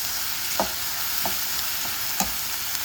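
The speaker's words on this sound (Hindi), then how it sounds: "जब तक प्याज गोल्डन ब्राउन हो रहा है" Onions frying in hot oil in a home kitchen pan, a steady low sizzle broken by a handful of sharp stirring clinks spaced about half a second apart, with no voices.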